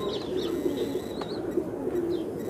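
A released Allahabadi pigeon gives a few soft coos and chirps over steady, fairly loud background noise.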